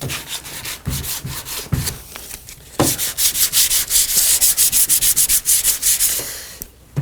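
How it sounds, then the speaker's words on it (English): Bondo filler on an Atari Quantum arcade cabinet being sanded by hand, close and loud, with irregular scrapes at first and then a fast, steady rhythm of back-and-forth rasping strokes. "I'm gonna just keep sanding this and we'll be right back"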